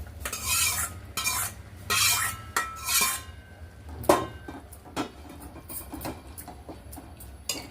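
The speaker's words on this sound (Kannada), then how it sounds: "ಇದಕ್ಕೆ ಬೇಯಿಸಿಟ್ಕೊಂಡಿರೋಂಥ ತರಕಾರಿ ಹಾಕ್ತಾಯಿದ್ದೀನಿ." Pre-cooked vegetables go into a boiling masala for a tarakari saagu and are stirred in the pot, a run of scraping, clattering spoon strokes that come in bursts and then ease into lighter bubbling and clinks.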